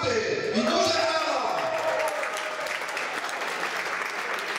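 Applause breaks out at the opening of a blood donors' club bowling tournament, a crowd clapping steadily while a voice speaks at the start, with tonal sounds fading beneath.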